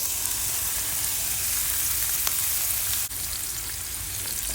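Chopped shrimp, cut to crawfish-tail size, sizzles steadily in a hot skillet with a constant broadband frying hiss, close and even throughout, with a faint clink near the three-second mark.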